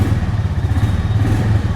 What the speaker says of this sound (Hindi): एग्जॉस्ट नोट एक बार सुन लेते हैं। देख रहे हो कितना स्मूथ स्टार्टअप है